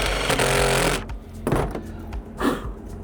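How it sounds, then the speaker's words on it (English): Power drill boring through two stacked pieces of furnace sheet metal, a loud continuous grinding whir for about a second, then two shorter bursts after pauses. "I am drilling through 2 pieces of metal there."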